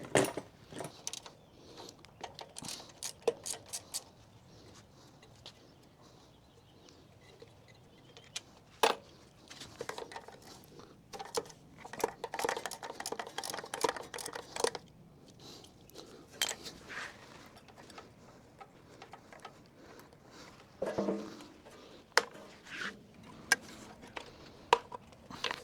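Bolts being removed from a John Deere Z355E riding mower, with close metallic clicks, taps and jingling of a tool and loose hardware, scattered irregularly among quiet gaps.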